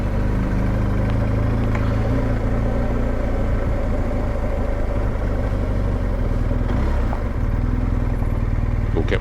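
Several other motorcycles rumble and idle nearby at a stop outside Slaidburn Cafe, a continuous loud low engine drone with slight revs and shifts in pitch throughout.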